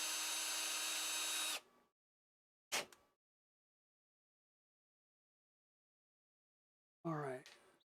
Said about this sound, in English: Bear with me as I drill this out.